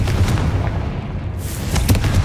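The Confringo explosion spell in the video game Hogwarts Legacy lands as a deep, rumbling boom that fills the clip, loud and sustained with crackling impacts layered over it.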